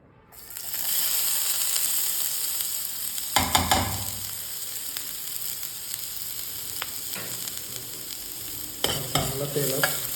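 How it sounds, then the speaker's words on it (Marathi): Finely chopped onion dropped into hot oil for paneer makhani, a loud sizzle bursting in after a short silence, then a steady frying hiss with stirring clatters and a second surge near the end. "आता आपण त्याच्यामध्ये बारीक चिरलेला कांदा घालणार आहे"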